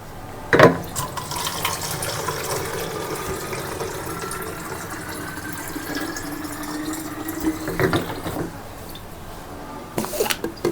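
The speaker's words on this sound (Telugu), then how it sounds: "ఇప్పుడు మనం వాటర్ నింపుకుంటాము" Steady running water from a tap filling a container, with a few brief clunks and knocks along the way.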